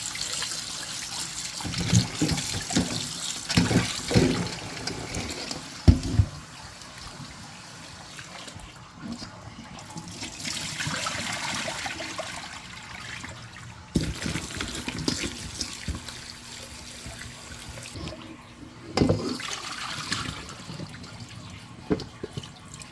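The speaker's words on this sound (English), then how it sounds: "sometimes the dirt is stuck on there, so you have to just wash them thoroughly" Tap water pouring and splashing into a sink while beets are scrubbed clean of stuck dirt, a continuous close rush with shifting splashes and trickles as the vegetables move under the stream, no talking.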